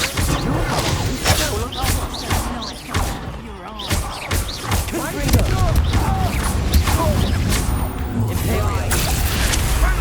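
A Confringo explosive spell in Hogwarts Legacy erupts amid combat, with loud booms, thuds and crashing impacts layered over battle noise while voices shout between blasts.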